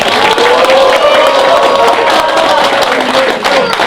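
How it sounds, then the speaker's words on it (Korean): An indoor audience at a political lecture claps and cheers steadily for about four seconds, a dense, even wash of applause filling the room. "박수 부탁드리겠습니다."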